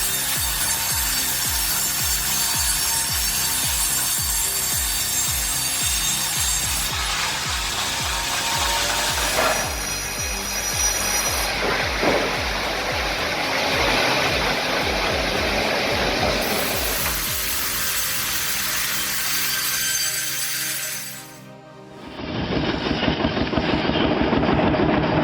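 A custom woodcutting sawmill mounted on a Hofer GS35 tractor cuts through logs, a steady loud mechanical drone with repeated rhythmic thumps and shifting rasping tones, then a brief dip before the machine roars back.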